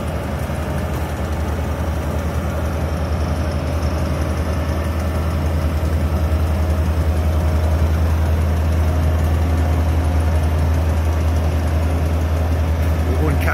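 Steady low diesel engine drone from a road roller working on new road construction, continuous and fairly loud throughout with a constant rumble and no breaks.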